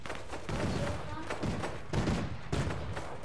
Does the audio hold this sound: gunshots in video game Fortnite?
yes